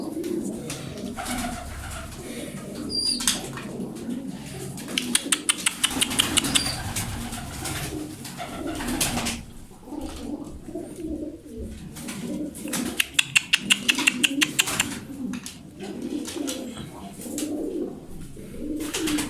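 Domestic pigeons coo repeatedly in soft, throaty rolls close by, with occasional bursts of wing flapping and light rustling.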